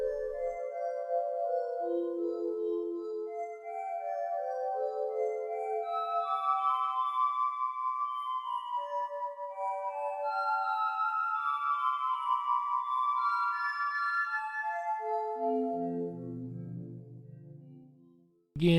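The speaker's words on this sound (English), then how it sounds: "that is the song of the Purple Glory Bush" Plant biodata music from a Purple Glory Bush plays as a slow, wandering melody of soft, glassy tones that drift up and then sink low, heard alone for about 17 seconds before a brief sharp sound at the end.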